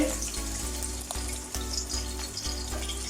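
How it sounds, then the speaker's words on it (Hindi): Raw chicken pieces for a steam roast go into a pot of hot oil, producing a loud, continuous sizzle with sharp crackles and pops, heard close and alone. "अब इसमें चिकन को डाल देते हैं।"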